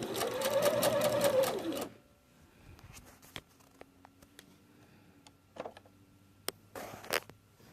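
A sewing machine stitches a pillowcase with a close, fast whirring run that stops after about two seconds, followed by quiet handling and a few short mechanical bursts as the fabric is turned at a corner.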